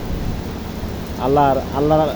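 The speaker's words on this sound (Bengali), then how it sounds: "এত সুন্দর একটা বৃষ্টি দেখেন।" Heavy rain falls over Dhaka as a steady, dense hiss filling the whole clip, with someone speaking over it in the second half.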